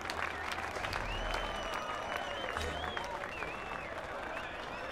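A crowd in the Saints Row 4 video game cheers and applauds continuously, a dense wash of clapping and whoops at moderate distance that holds steady throughout.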